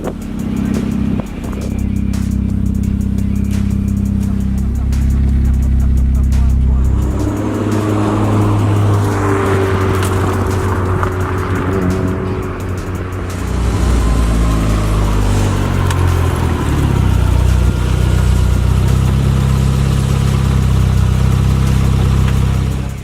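A light-chassis Mazda Familia GTR resto-mod idles loudly, then its engine rises and falls as the car drives off, shifting pitch through several revs. The engine note stays continuous and close the whole time.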